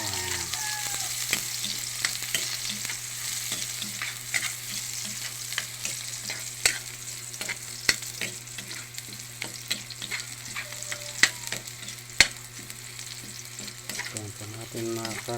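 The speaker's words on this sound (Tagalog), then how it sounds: "Ayan po natin makaramelize ang sibuyas." Onions fry and caramelize in a hot oiled pan, giving a continuous close sizzle with scattered crackles and occasional scraping stirs throughout, free of talk.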